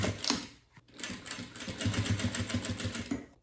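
A sewing machine stitches fabric onto clear plastic for a double pencil case, its needle running in a steady rapid rhythm, close and moderately loud, with a brief pause before it starts up again.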